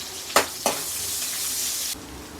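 Onion hits hot oil with cardamom in a pan, setting off a loud hiss after two quick splashing bursts, the sizzle holding steady for about a second and a half before it suddenly drops away.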